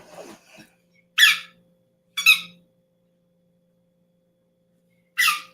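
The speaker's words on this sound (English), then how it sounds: "the squeaking in the background is my dog chewing his ball" A dog chews a squeaky ball in a quiet motel room, producing three short, sharp squeaks spaced about a second or more apart, with a faint breathy rustle at the start.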